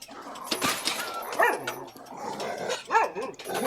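Dogs bark and whimper in a Spy x Family anime episode, with several sharp yips and barks spread across a few seconds over a busy soundtrack background.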